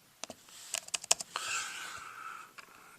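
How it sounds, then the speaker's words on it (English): A computer keyboard clicks in a short cluster of quick keystrokes while an equation is entered, then falls quiet apart from a faint later tap. "here's how you type that in"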